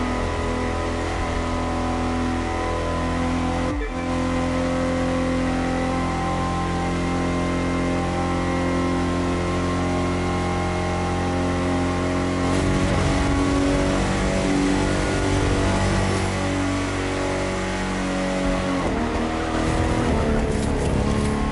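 A hypercar in The Crew 2 accelerating downhill, its engine holding a steady high drone with sustained harmonic tones, then a gear-change dip and a renewed rising rev, loud and continuous with no talk.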